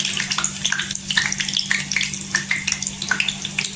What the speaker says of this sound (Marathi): तेल गरम झाल्यानंतर कढीपत्त्याची पाने टाकायची